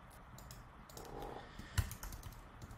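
An email address being typed on a computer keyboard: faint, scattered key clicks in a quiet room, with one sharper, louder tap near the middle.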